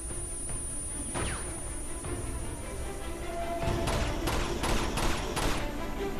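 Gunfire in the video game Uncharted 2 on PS3: a dense fusillade of shots under a steady game background, growing into a rapid burst of loud repeated bursts during the second half.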